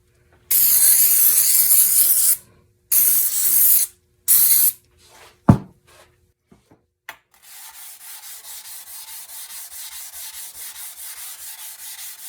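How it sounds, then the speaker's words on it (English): WD-40 lubricant sprays in three loud hissing bursts onto a 3 ft crosscut saw, followed by a few small knocks and then a rhythmic rasping as the blade is rubbed or worked, with no talking. "I'm going to use some WD-40 as my lubricant instead."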